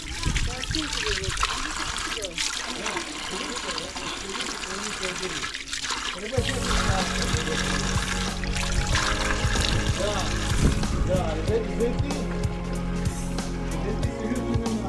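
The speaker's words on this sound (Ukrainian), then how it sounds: "Так тут тече вода." Steady rushing river water runs throughout at Tustan, with broadband noise and a louder, denser flow in the second half.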